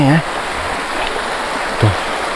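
Rushing river water flows steadily during a shallow wading crossing, a continuous broadband wash heard close, with a brief voice near the start.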